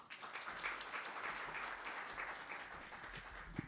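An audience at a conference on trade cooperation applauds in a steady, even wash of clapping from many hands, fairly distant and sustained throughout, with no talk.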